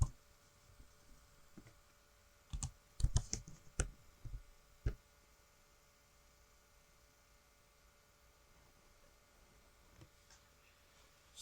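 Quiet clusters of key clicks on a computer keyboard, a short burst of typing followed by a couple of isolated taps over a faint steady mains hum in a quiet room.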